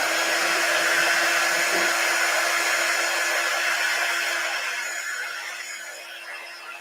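A handheld dryer blows on wet paste spread over a wooden star cutout, a steady loud whirring hiss with a constant tone that tapers off slightly toward the end, with no one speaking.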